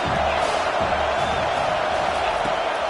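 A football stadium crowd at a Penn State game roars in a steady, dense wash of cheering and noise, loud and continuous throughout.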